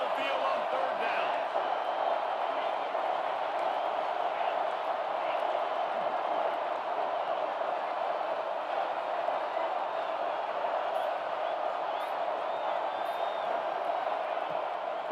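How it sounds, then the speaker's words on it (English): Home crowd at a college football game between Texas and Arizona State, roaring steadily as the defense faces third down, a dense sustained wall of cheering and noise from a large stadium with no break. "Here comes this home crowd as the defense tries to get off the field on third down"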